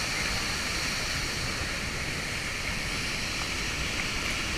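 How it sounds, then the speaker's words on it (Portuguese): A waterfall in rural Rondônia, Brazil roars as a steady, dense wash of falling water, loud and unbroken throughout with no voices over it. "Cachoeira aqui."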